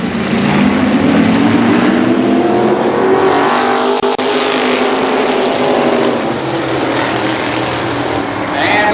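Modified race cars circling a speedway in 1994, a loud continuous roar of multiple engines sweeping past close by, with rising and falling pitch as the field goes around.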